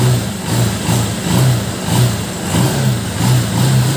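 Honda TMX 125 Alpha motorcycle engine, warmed up after a cold start, revving in steady repeated throttle blips, a loud, close, throaty rise and fall roughly every half second with no talking.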